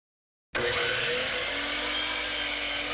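A miter saw set to a left-hand 45-degree angle cuts through crown molding, starting abruptly after half a second of silence and holding a loud, steady, whining buzz to the end, with no talking.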